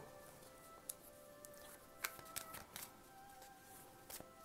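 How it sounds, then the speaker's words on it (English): Tarot cards being shuffled by hand: faint, soft riffling and scattered light clicks over a low steady hum, with no talking. "I'm going to shuffle card a little bit more."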